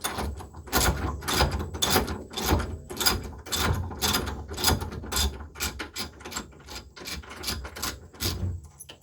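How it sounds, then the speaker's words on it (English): A ratchet unbolting a Z32 brake caliper on a Z31 hub, rapid repeated clicking strokes in steady bursts, close and fairly loud, with brief pauses between runs. "I'll unbolt this caliper real quick."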